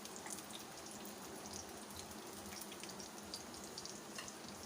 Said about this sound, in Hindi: मेरा तवा थोड़ा छोटा है, इसलिए मैं थोड़े थोड़े करके फ्राई करूँगी।